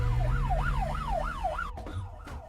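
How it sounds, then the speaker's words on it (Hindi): A wailing police siren sweeps up and down in a steady rhythm, fairly close, then cuts off abruptly near the end. "ये तो पुलिस का सायरन है।"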